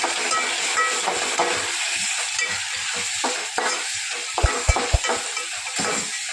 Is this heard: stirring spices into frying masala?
yes